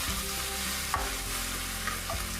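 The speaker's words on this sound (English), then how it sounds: "Keep stir frying till well incorporated." Tofu and mushrooms sizzle and crackle in a hot pan as they are stir-fried with soy sauce, a loud continuous frying hiss with occasional scrapes.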